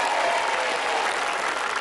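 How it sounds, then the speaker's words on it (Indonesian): Studio audience on a family game show bursting into loud, dense applause, a sustained close crowd clapping throughout with no talk over it. "tepuk tangan untuk Mbak Tantri"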